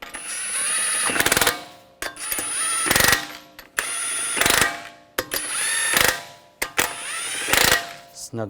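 An impact or ratchet tool spins wheel lug nuts onto a Honda Pilot in repeated loud, close bursts of whirring and clattering with short pauses between, about five runs in all.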